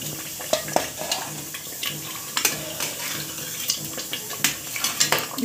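Mutton pieces dropped into cooked-down masala with oil risen to the surface in a pan for Punjabi mutton curry: steady close sizzling with scattered clinks and scrapes of a utensil against the pan, no talking.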